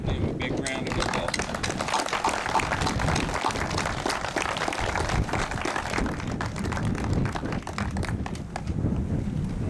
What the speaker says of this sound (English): I think we need to give them a big round of applause